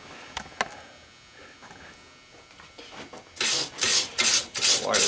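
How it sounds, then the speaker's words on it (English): A wire brush scrubs dirt off the motor mount of a scrap push mower, starting with a few faint scratches and taps, then turning into loud, close bursts of harsh rhythmic rasping, with no talking. "Wire brush and kind of clean the dirt away from that one."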